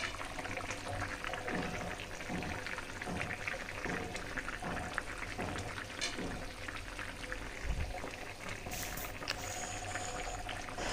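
Water flows into a pan of fish curry in a long, continuous, fairly quiet pour with a bubbling, watery texture that holds steady throughout.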